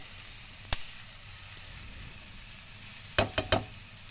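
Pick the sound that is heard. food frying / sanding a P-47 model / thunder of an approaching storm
food frying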